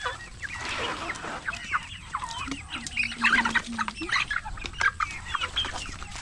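Chickens cluck and chatter steadily, a small flock close by with overlapping calls and an occasional louder squawk.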